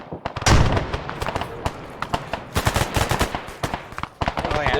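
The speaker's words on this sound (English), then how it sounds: "Oh yeah, they're firing up here." Arma 3 combat with dense bursts of gunfire, rapid automatic cracks and heavier booming shots stacked close together, with voices talking over the battle.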